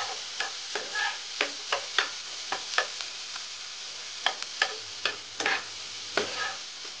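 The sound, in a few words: chopped garlic lightly frying in butter while stirred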